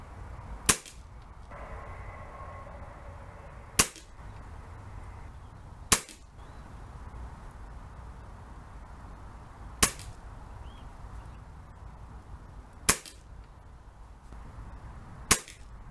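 Six sharp, isolated shots from an AGS SPR10 custom-tuned air rifle with a modified trigger crack at irregular intervals of several seconds, each a crisp snap over faint outdoor wind.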